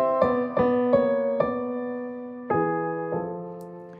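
Pairs of sustained tones a tenth apart moving together in parallel harmony, six clearly struck chords in a slow, even sequence, each ringing and fading before the next, with no talk.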